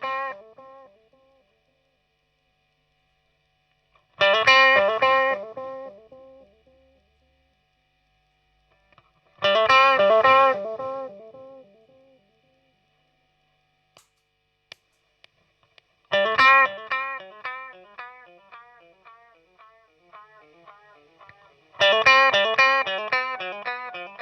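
Electric guitar played through Mr. Black Dark Echo and Downward Spiral delay pedals, both set near 450 ms: four separate phrases, each trailing off in repeating, fading echoes, with silent gaps between them and no talking.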